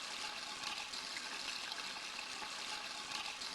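Bathroom sink tap running in the video game Deltarune, a faint, steady hiss of flowing water, continuous and alone.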